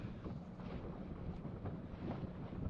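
Strong wind gusts roar across open water during a vintage sailing race, a steady rushing buffet with swelling puffs battering the microphone, loud and continuous, no voices.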